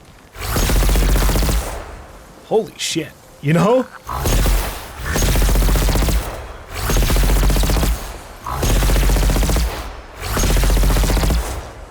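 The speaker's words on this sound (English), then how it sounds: "I feel like this Spectre cannon wasn't in the main game." A Spectre cannon fires in Horizon Forbidden West in four loud, sustained rapid-fire bursts separated by short pauses, with a man exclaiming in one of the gaps.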